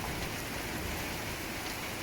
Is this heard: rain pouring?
yes